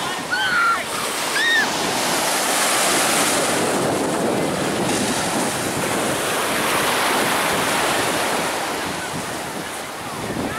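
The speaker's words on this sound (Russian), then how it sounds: "Вот это да, ракушечный пляж." Waves wash continuously onto a shell beach, a broad close roar of surf blended with gusty wind noise buffeting the microphone, with a few brief high chirps early on.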